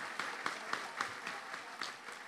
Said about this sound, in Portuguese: uma calorosa salva de palmas para todos nós.